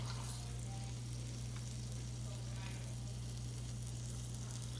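Conch fritter balls fry in hot oil with a soft, steady sizzle and a low constant hum, quiet and even throughout with no talking.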